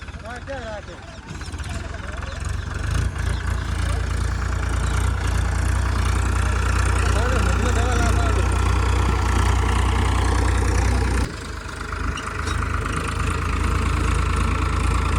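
A tractor engine idles and rumbles in an open field being levelled for a cricket pitch, a steady heavy drone with knocking texture, people talking over it, dipping briefly before resuming.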